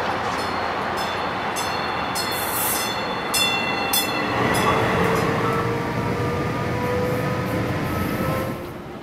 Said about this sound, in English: I will take this train to Union Station